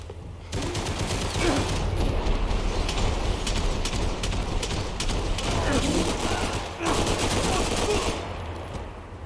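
Heavy gunfire in the Max Payne 3 video game, a dense sustained barrage of shots and bursts running almost the whole time, loud and close, with shouting voices over the firefight.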